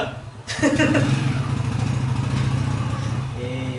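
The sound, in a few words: tractor engine nearby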